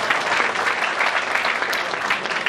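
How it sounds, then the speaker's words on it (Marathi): Loud, dense audience clapping fills the hall at a Marathi theatre gathering honouring a playwright, steady and unbroken from start to finish. "जोरदार टाळ्या वाजवा"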